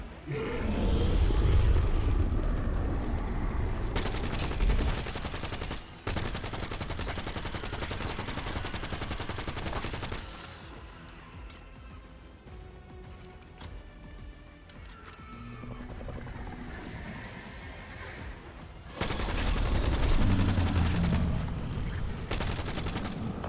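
Gunfire from the Black Ops 7 campaign: dense, loud bursts of automatic fire with sharp individual shots. A quieter stretch in the middle gives way to heavy shooting again near the end.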